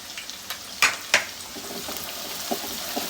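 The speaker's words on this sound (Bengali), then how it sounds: "এখন এটাকে ভাজা ভাজা করে" Chopped onions fry in hot oil in a pan for a spicy chicken curry, giving a steady close sizzle with a few sharp stirring clatters near the start and no talk.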